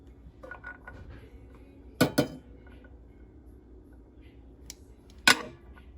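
Serving spaghetti with beef meatballs at home: a plate lifted and set down and utensils scraping, with two sharp clinks of metal on ceramic and a later single bright clink between quieter shuffling handling sounds.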